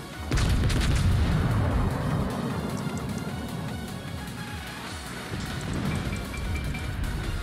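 Heavy naval artillery booms in a warship video game, a deep loud blast followed by a long rumbling roll that swells again near the end, with sharper crackles layered on top.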